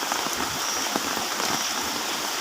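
Steady rain falls on a surface, a dense even patter of drops with no pauses and no other sounds.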